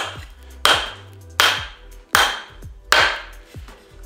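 A hammer strikes to seat a hammer head onto a new handle, four sharp, ringing taps spaced roughly evenly, each a close, loud impact that decays quickly, with quieter knocks in between.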